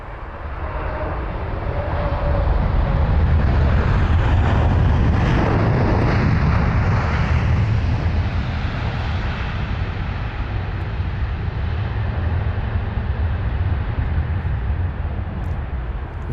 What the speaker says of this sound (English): Very, very loud, this American jet. That 777, I can hear it from quite far.